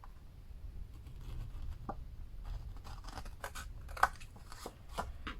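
Quiet, sparse snips and crisp clicks of scissors cutting paper, a few distinct cuts spread over a low background hum, with no talking.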